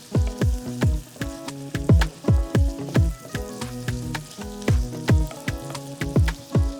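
Onions frying in a pan while being stirred, with rhythmic clattering strokes of a utensil against the pan repeating steadily over a soft sizzle, close and loud without any voices.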